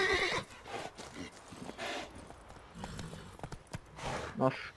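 Short whinnies from a horse in the game Witcher 3 Blood and Wine come at the start and near the end, with hoof clops in between and talk mixed in.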